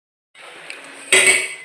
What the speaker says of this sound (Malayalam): തേങ്ങ ചേർത്ത് ഇളക്കുകയാണ്.